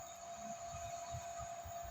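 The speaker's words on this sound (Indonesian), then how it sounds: "di belakang ini terdapat kipas ya mas bro ya. Dia ada kipas di sisi belakangnya ini. Nah, dia berputar ya." The small cooling fan on the back of an RTD M8C mini projector headlight for underbone and scooter motorcycles gives a faint, steady whirring hum with a thin high whine. It sounds close and quiet, and there is no talk.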